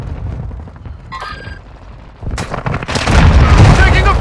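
Gunfire and explosions crash through a Call of Duty: Modern Warfare II match, scattered shots early giving way to a loud, dense barrage of booms and rattling fire that swells toward the end, with radio-style voice callouts mixed in.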